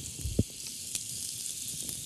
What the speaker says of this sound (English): not only does the sizzle let you know that the pan is hot and ready, it's actually going to sear them very nicely